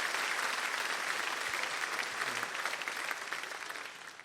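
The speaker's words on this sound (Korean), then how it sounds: "우리 박수로 뜨겁게 환영하십시다." A church congregation gathered for a general assembly applauds warmly, a dense, steady wash of many clapping hands that fills the room and tapers slightly toward the end.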